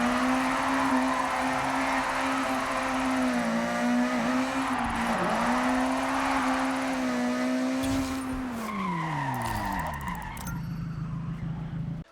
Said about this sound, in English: So simply keep the car in second gear and basically keep hitting that e-brake.